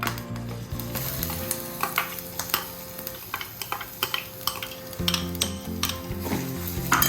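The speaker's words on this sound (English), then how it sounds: "we will be adding in the onion and garlic" Chopped onion and garlic sizzle loudly in a pan for pav bhaji, with repeated scraping stirs and light clinks of the utensil against the pan over continuous frying noise.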